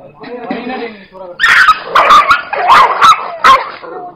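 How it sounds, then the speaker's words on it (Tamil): Dogs fighting near the Periyasamy temple in Kolli Hills. After a moment of voice-like sound, a burst of loud, close barks, yips and snarls breaks out in quick, ragged volleys. "ஸோ நாய் சண்டை நடக்குது."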